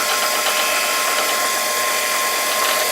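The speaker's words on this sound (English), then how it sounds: "So we're just making a little pilot to start the tapping drill" A hand drill working a small pilot hole into the crank of a model Wilkinson-pattern steam tram, a steady close whirring and grinding with a faint ratcheting edge, running continuously without speech.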